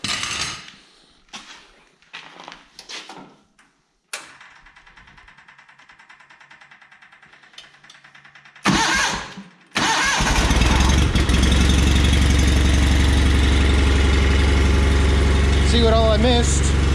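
John Deere 318 lawn tractor engine cranking in short bursts with clicks and pauses, a mid-length crank, then catching and settling into a loud, steady, close idle; a voice speaks briefly early on.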